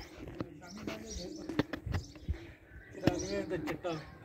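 Flying pigeons on a rooftop in Jhelum, Pakistan, give soft coos and a few sharp wing claps, heard at a moderate distance against quiet background murmur.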